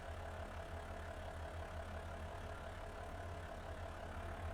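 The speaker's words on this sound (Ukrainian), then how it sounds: "Запускаємо двигун" A tractor engine idles steadily in the video game Farming Simulator 25, a continuous low, even rumble with a mid-range drone held for several seconds, with no talking over it.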